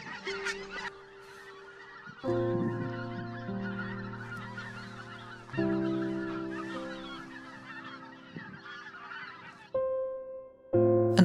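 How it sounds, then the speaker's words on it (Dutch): A large flock of wild geese honking loudly and continuously, many overlapping calls close by, with brief pauses where the honking swells again. "Deze grote groepen ganzen tezamen vormen een prachtig gezicht."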